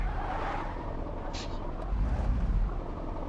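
A Maybach car in the driving game Car Simulator 2 runs with a low engine rumble and road noise that swells toward the end, with brief higher whooshes in between, under someone talking.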